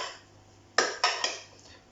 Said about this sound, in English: So I'm just going to stir this lot through a bit.